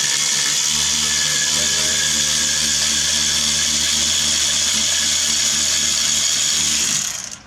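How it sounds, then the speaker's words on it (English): A power tool, likely an impact wrench on the brake rotor bolts of a Subaru Forester, whirs loud and close in one continuous high-pitched run, then winds down and stops. "Alright, and then you're just going to get an impact,"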